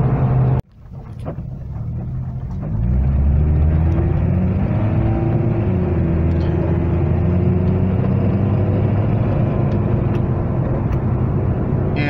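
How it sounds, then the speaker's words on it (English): Exhaust of a 2003 Nissan Altima 2.5L fitted with a Walker muffler and a loud header, a steady engine drone that rises in pitch as revs climb after a brief starting burst, close and continuous with no talking. "You can hear that exhaust noise, but this header is pretty loud."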